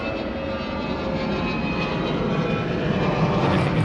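A Qantas Airbus A380 in oneworld livery roars steadily at Honolulu airport, a broad continuous jet engine rumble that swells slightly toward the end, moderately distant with no talk.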